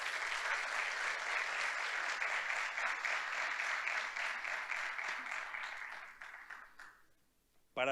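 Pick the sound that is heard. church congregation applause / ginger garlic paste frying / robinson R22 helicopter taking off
church congregation applause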